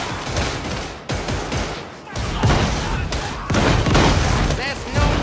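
Gunfire rings out in the Warhammer 40,000: Darktide video game, dense bursts of shots overlapping a busy battle mix with voices talking over the continuous racket.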